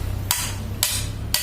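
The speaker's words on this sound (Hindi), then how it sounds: "इसलिए हथौड़े को मार के सीधा कर रहे हैं। वो लोहे का एक ब्लेड है" Three sharp, ringing hammer blows on an iron blade being straightened for a homemade earth auger, evenly spaced about half a second apart, loud and close over a steady low background hum.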